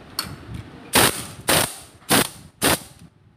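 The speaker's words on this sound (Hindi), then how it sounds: "और एक बोल्ट इधर रह गया था, इसे भी टाइट कर लेते हैं" A bolt on the clutch cover of a Yamaha FZ V2 motorcycle is tightened with a ratchet wrench: four loud, sharp clattering bursts at roughly even intervals, close up, with no talking.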